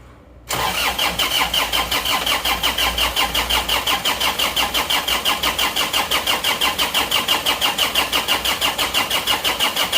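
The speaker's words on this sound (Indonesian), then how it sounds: "Mari kita uji dulu tekanan kompresinya. Ini starter terus" An Isuzu Panther diesel engine is cranked by its starter for a compression test. After a short quiet start, a steady rhythmic chugging pulse runs without a break and stays loud and close throughout.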